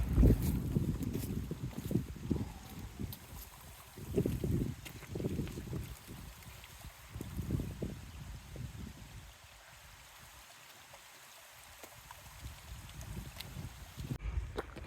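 Gusty wind buffets an exposed hillside on the way up toward a summit in the evening, with loud rumbling microphone bursts that rise and fall, easing to a quieter steady rush before picking up again near the end.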